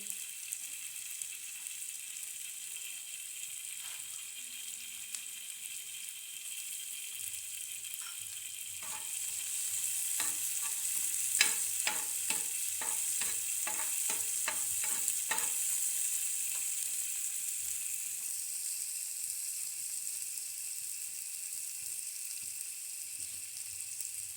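Onion frying in a pan for vegetable paratha, a steady sizzle with a burst of sharp spatula scrapes and clicks in the middle, fairly close and alone.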